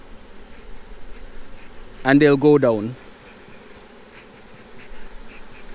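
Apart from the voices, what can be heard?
honey bees buzzing at a shaker box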